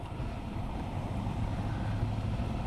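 A long truck rumbles past on a rural road in Newton County, Arkansas, a steady loud low drone that holds for the whole stretch, near and continuous, with no talk over it.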